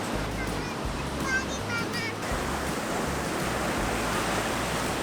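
Ocean waves on a Portuguese beach make a steady broad roar of surf with low rumbling swells, close and constant, with faint high chirps near the start.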